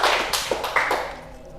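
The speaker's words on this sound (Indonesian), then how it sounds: "tepuk tangan dulu teman-teman semuanya" A group in a classroom claps hands in a short burst of a few sharp, fairly near claps that fade out within about a second.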